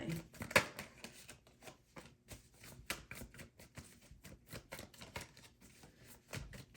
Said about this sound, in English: And let me shuffle, because cards are popping.